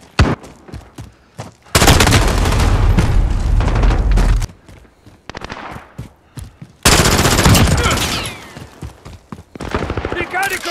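Gunfire in Call of Duty Modern Warfare, P90 included, with sustained loud automatic bursts, gaps of scattered single shots and a booming impact. A voice speaks between the bursts.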